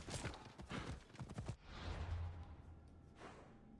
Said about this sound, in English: Just ride the horse there.